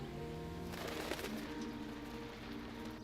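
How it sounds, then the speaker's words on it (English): Pigeons coo softly in the street in the video game L.A. Noire, faint and distant over a steady background hum. "Scatter the pigeons."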